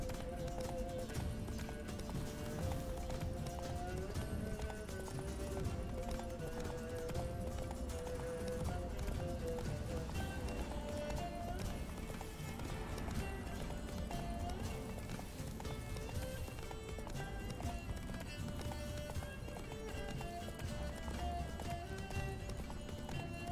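A horse in The Witcher 3: Wild Hunt gallops with rhythmic hoofbeats and occasional neighs, set under continuous game music and ambience.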